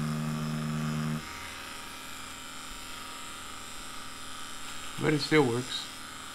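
A Dragonhawk Extreme v2 direct drive tattoo machine runs at about 5.5 volts with a steady, close buzz for a second, then stops before a person speaks.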